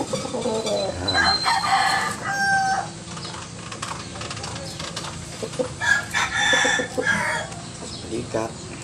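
Chickens cluck and a rooster crows repeatedly up close while the birds are handled and massaged, the calls rising and falling over rustling throughout.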